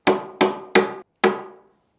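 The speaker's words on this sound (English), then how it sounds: "I'm going to hit this with my hammer and pull it straight down and through" Four sharp hammer blows strike a pair of pliers gripping a nail in a utility cabinet, three in quick succession and a fourth after a short pause, each ringing briefly and loud and close with no talk.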